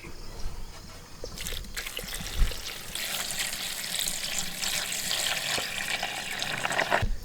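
Hot water poured into a container of nuts, a soft gurgling splash that starts quietly, then swells into a steady watery stream for several seconds, close and moderately loud.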